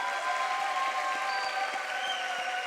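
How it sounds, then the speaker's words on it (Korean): A church congregation applauds newly baptized members during a Sunday afternoon service, a steady, even patter of many hands filling the room for a few seconds without voices. "우리 다시 한번 축하의 박수 드리겠습니다."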